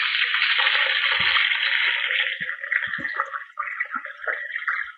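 Cooled, previously boiled milk poured steadily into a pan for palakova, a continuous liquid splash and trickle that thins out toward the end with small drips and clinks.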